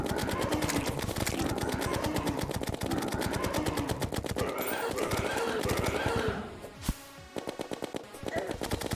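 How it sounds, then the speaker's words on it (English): Minishark gun firing in Terraria, a rapid, steady stream of sharp bullet shots in fast machine-gun rhythm, loud and continuous, briefly thinning near the end before resuming amid game effects. "Oh, I'm starting to shoot out 2 bullets now."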